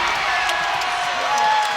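An arena crowd and team bench roar after a go-ahead basket in a women's college basketball game, a dense, steady wall of cheering and whoops that fills the whole short moment.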